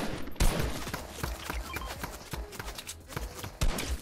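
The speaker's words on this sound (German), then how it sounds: "Hinter mir Schüsse." Rapid bursts of gunfire crackle in quick succession with loud sharp cracks, amid busy Fortnite game action and occasional sharp impacts.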